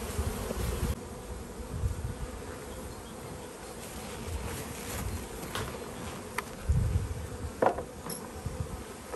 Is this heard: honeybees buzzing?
yes